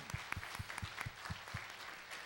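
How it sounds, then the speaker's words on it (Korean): A church congregation at a special dawn prayer service gives thanks to Pastor Park Seung-gyu with soft, rhythmic clapping, a quiet, steady beat of claps with a low thump on each one, heard from a distance. "우리 박승규 목사님 위해서 우리 한번 감사의 박수 한번 드렸으면 좋겠습니다"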